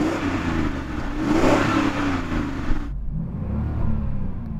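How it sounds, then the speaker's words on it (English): A W12-engined car, one of the most expensive in a drag race lineup, revs hard in a rising roar that peaks, then drops abruptly and settles into a lower idle-like rumble, loud and close. "can you rev up your car and let us hear its W12 engine?"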